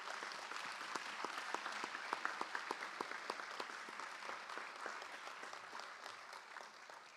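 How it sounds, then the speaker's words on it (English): An audience at a school board meeting claps for student athletes honored as all-region, a steady, moderately distant round of applause with dense overlapping claps that holds even throughout. "Let's give these guys a round of applause."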